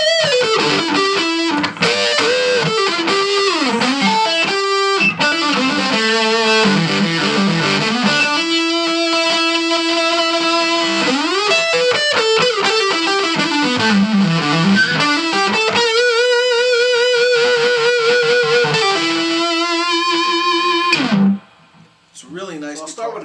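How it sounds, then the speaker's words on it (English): A stock Ibanez Les Paul style electric guitar is played through a distortion setting, with sustained overdriven notes and bends in a continuous run before it stops abruptly near the end. "It's regular Ibanez stock guitar. I've still got a distortion setting on."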